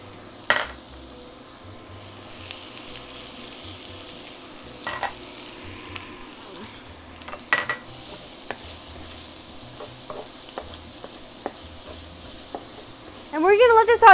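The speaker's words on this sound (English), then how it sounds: "We're going to saute in it 1 shallot and 3 cloves of garlic." Shallot and garlic sautéing in butter in a pan for lime chicken, with a soft sizzle, scattered clicks and utensil taps, and a louder burst of hissing near the end.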